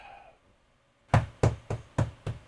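Five firm knocks on a door in a quick, slightly uneven rhythm, close and loud after a near-silent pause, with a faint voice fading out at the start.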